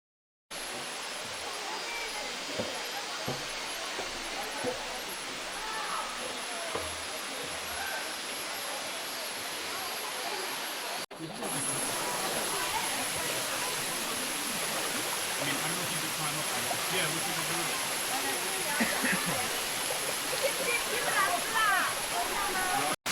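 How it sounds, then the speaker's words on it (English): Steady roar of the Buatong Sticky Waterfall in Chiang Mai, Thailand, a broad continuous wash of falling water that fills the clip and swells slightly louder partway through. "Buatong Waterfall is more commonly known amongst travellers as the Sticky Waterfall"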